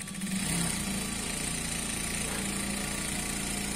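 A sewing machine runs steadily while stitching a salwar, a continuous close mechanical whir with a low buzzing hum that holds constant throughout, with no talking.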